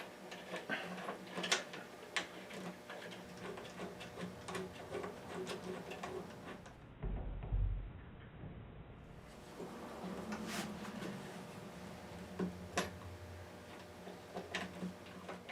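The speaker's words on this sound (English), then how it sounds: "Let's put this neck back in place." Neck of a Taylor 856 CE 12-string guitar fitted back into place, with small clicks, knocks and scraping handling noises close up, briefly muffled by a dull thump midway.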